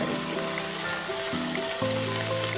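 Fennel and coriander seeds sizzle steadily in a hot pan of oil for a Maharashtrian green-pea kachori filling, making a dense continuous frying hiss with a steady tone humming underneath and no talking.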